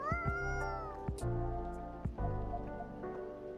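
A cat in the video game Coffee Talk meows several times in short, rising and falling cries, close and clear over soft rain-like ambience.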